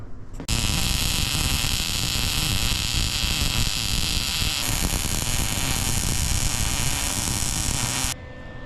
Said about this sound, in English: So I'm gonna get those welded in.